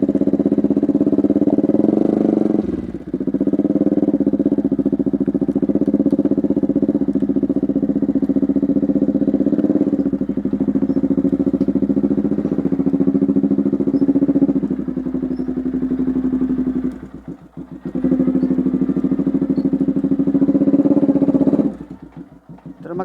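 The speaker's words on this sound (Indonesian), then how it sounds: "Saya mau pindahkan sepeda motor ini ke sebelah situ" A motorcycle engine running steadily at a low idle with mechanical clatter, close and loud, dipping briefly a few times as the bike is moved to another spot.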